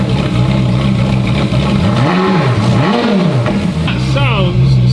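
A Ferrari F430 V8 being revived after crash damage revs up near the microphone from a rough idle, two rising and falling throttle blips followed by a sharper rev, with a higher whine at the end.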